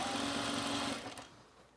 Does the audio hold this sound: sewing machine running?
yes